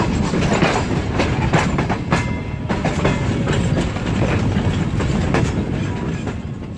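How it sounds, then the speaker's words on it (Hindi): The Hazara Express, led by locomotive HJMU 30, departs a station platform with loud continuous rumbling and rhythmic wheel clatter close by, without talk. "प्लेटफॉर्म नंबर 1 से इस वक्त निकल रही है हवेलियां और कराची के दरमियान चलने वाली 12 टाउन हज़ारा एक्सप्रेस"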